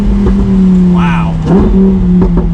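A 2020 Lamborghini Huracan EVO Spider's engine drones close and steady on the road, with a brief exclamation from a voice over it.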